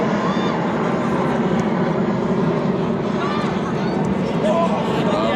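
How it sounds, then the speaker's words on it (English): An airplane drones overhead during an outdoor soccer match, a steady, loud engine rumble that persists throughout, with crowd murmur and commentary talk mixed in. "plane flying overhead."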